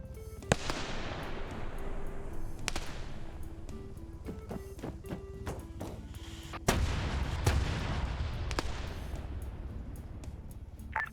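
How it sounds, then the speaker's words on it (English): Airstrikes pound an area in a military video game, a run of heavy booming blasts and sharp cracks, some close and loud, others more distant, with a constant rumbling din beneath and no talk. "they're starting to do airstrikes along that area"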